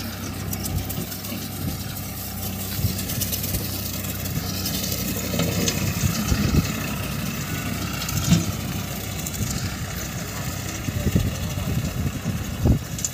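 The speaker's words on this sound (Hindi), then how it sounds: "आप देखिए रोटरी स्लेशर चल रहा है" A Farmtrac 35 Champion 35 HP diesel tractor drives a rotary slasher across a dry, recently harvested field, its engine running in a steady low rumble with uneven knocks and surges from the cutter, continuous throughout.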